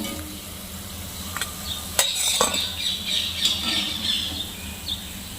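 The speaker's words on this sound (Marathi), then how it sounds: "चांगली दोन्ही बाजूने आपण खरपूस तळून घेणार आहोत" Taro leaf fritters (aluchi bhaji) fry in oil with a steady, close sizzle. Sharp utensil clicks and scrapes against the pan cut in, and a thin high squeal comes and goes midway.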